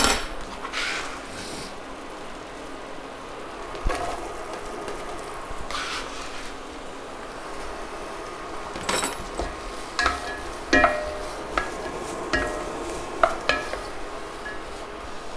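Onions frying in a tablespoon or so of vegetable spread in a soup pot, giving a steady low sizzle with scattered sharp clicks and scrapes of stirring from close by, no voices.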